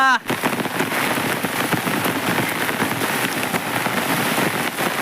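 A heavy downpour drums steadily over farmland by a pond, a thick unbroken wash of rain close by after a brief sharp sound at the very start.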